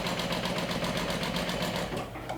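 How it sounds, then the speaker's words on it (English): A sewing machine runs steadily, topstitching fabric an eighth of an inch from the edge on a small wand holder, with a fast even stitching rhythm that is close and loud for about two seconds before slowing and stopping. "I like to top stitch with 1/8 of an inch away on both sides."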